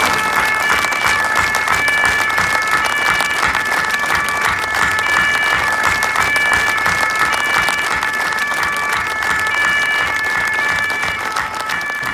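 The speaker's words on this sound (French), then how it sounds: "je vous propose, mesdames et messieurs, de leur consacrer des tonnerres d'applaudissements" A crowd at a civic gathering in Poissy applauds, with dense, sustained clapping that stays loud and steady throughout and carries a faint tonal ring over it.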